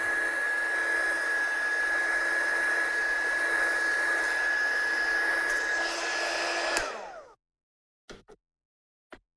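A heat gun blows steadily on a handmade die-cut card for several seconds with a loud, even whoosh and whine, then cuts off and winds down, followed by a couple of faint taps.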